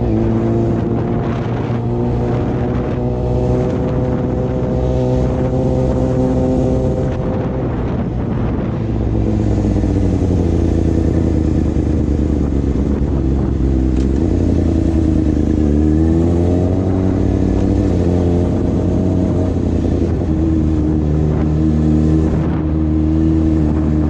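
A Yamaha YZF-R6 sport motorcycle rides at speed with a loud, steady engine drone whose pitch rises and falls through gear changes and throttle shifts, under continuous wind rush and no talk.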